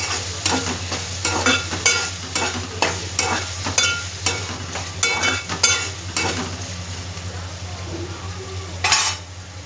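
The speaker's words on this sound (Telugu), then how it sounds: "చూడండి, ఉప్పు పసుపు కూడా వేసాను. వేసేసి తిప్పుకున్నాను." Squid frying in a pan with salt and turmeric, stirred with a metal utensil: steady close sizzle under a run of repeated sharp scraping and clinking strokes against the pan, no voices.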